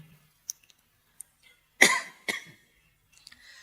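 One harsh cough followed by a shorter second cough, close and loud, with a few small clicks in otherwise quiet surroundings.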